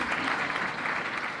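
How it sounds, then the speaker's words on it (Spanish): Audience applause at a gathering in Punta Ballena, Uruguay, a brief dense wash of clapping hands, steady and fairly loud throughout. "aplauso para Jung"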